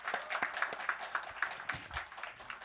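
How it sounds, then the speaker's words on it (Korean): A church congregation at a New Year worship service claps together in thanks, a dense, steady run of hand claps filling the room at moderate volume. "하나님께 먼저 감사와 영광의 박수를 올려드리겠습니다"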